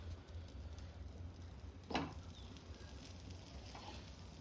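Homemade pizza set into a hot pan at home, giving a faint, steady low sizzle with a brief sharper crackle as it lands, then soft ticking and frying noise underneath, no speech.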